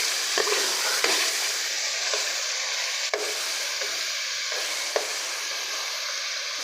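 Thick-cut potatoes fry in masala with onion, a loud continuous sizzle broken by a few sharp scrapes of a spoon stirring the pan, close up with no voices.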